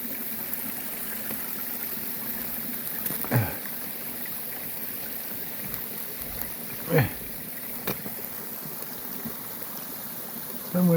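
A stream runs beside the Appalachian Trail near a bridge at dusk, its steady moderate babble continuing throughout, with a few brief louder knocks and scrapes close by.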